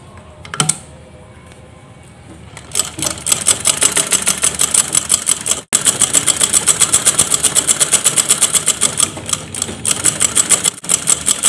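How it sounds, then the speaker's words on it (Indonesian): A sewing machine runs in fast, even bursts while stitching a kebaya dress and fitting a Japanese-style zipper, its rapid needle chatter loud and close, briefly pausing and then resuming. "ini aku mau menjahit baju kebayanya ini mulai dari tanda yang aku buat tadi ya"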